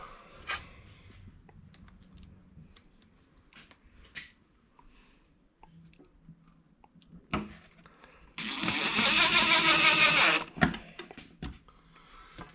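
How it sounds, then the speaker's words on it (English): A DeWalt 20-volt impact driver drives a screw in a studio, a single loud whirring run of about two seconds among quieter scattered handling knocks. "I'm using a DeWalt 20-volt impact, which are fantastic impact guns."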